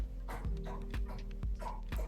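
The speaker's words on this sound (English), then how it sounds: "That's our dog taking a drink in the background." A dog laps water in the background, giving a quiet, regular series of wet slurping pulses at a steady rhythm, a little over two per second, under a low electrical hum.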